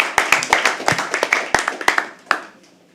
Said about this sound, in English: Keep clapping as she comes on stage